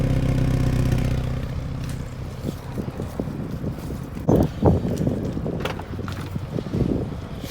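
A 2020 Genesis G70 sport with a 6-speed manual runs through its dual exhaust, a steady droning note for about two seconds before it drops under gusty wind buffeting and light clatter.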